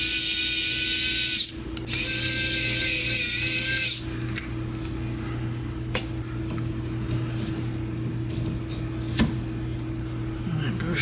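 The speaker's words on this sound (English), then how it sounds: "Put them screws back in" A powered screwdriver whirs loudly in short bursts while driving screws back into a Creality K1C 3D printer, then gives way to quieter handling clicks and knocks over a steady background hum.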